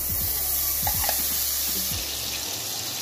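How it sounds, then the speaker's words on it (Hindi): Two spoonfuls of butter sizzling as they melt in a hot kadhai on a lit stove, a steady close hiss with a low background hum and a few faint clinks. "मक्खन के डालने लगी हूँ।"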